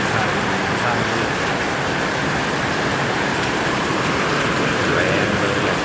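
A night storm in Udon Thani lashes trees with strong wind, a steady, loud broadband roar of wind and rain holding at the same level throughout, with no voices heard.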